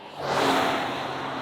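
A 2023 Jeep Grand Cherokee with a naturally aspirated 3.6-litre V6 petrol engine drives on the road, its engine rising in a brief, smooth rev with a steady whir of tyres and cabin noise.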